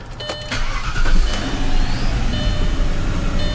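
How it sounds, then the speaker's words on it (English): An Audi S6 engine cranks with a few quick clicks and catches, then settles into a loud, steady idle after a misfire repair, heard up close with a constant low rumble and no talking. "Okay, so the car's now on."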